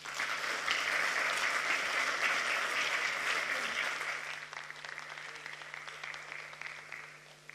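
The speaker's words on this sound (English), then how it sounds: "More applause, more applause." Audience applause fills a climate summit hall, a dense sustained wash of clapping that starts loud and gradually thins and fades toward the end, with no voices over it.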